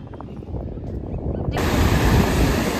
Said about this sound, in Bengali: এত জোর জোর ঢেউ আসছে আর এত হাওয়া দিচ্ছে